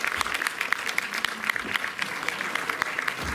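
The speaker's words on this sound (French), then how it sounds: "Sous vos applaudissements." Audience applause at the opening of a film festival in Montreuil, a steady patter of clapping hands from a moderate-sized crowd, fairly soft and continuous.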